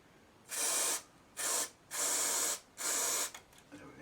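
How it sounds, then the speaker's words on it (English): Four sharp bursts of a spray bottle, each a loud hissing puff about half a second long, separated by short silent gaps, followed by faint handling noise. "Give that a spray."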